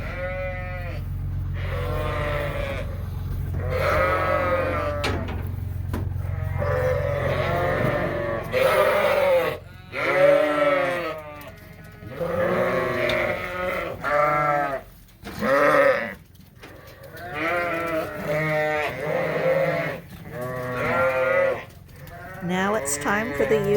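Ewes and lambs bleat over and over in a trailer pen on a sheep farm, with loud overlapping calls in irregular bursts and short pauses, close by, over a low background rumble.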